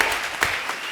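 Applause from a comedy show studio audience, a brief burst of dense clapping lasting under a second.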